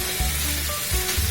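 Ingredients for mango habanero Hawaiian pork chops sizzle steadily on a grill, a continuous close hiss with a few low bumps and stirring movements and no talking.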